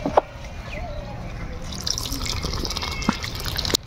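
Hot water is poured into a pot of chicken curry, a close, bubbling trickle with splashes and a few drips and knocks, while someone talks softly.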